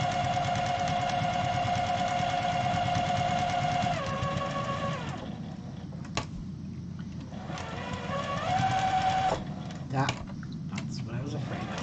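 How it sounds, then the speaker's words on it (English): A sewing machine stitches around the edge of fabric in rapid mechanical runs, pausing and restarting with small clicks, under quiet talk from a nearby voice. "So I'll just sew around the edge"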